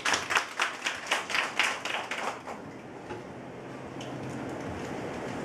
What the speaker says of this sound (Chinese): 就以热烈的掌声啊来欢迎三泽老师给我们演讲